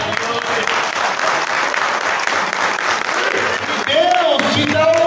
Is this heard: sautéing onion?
no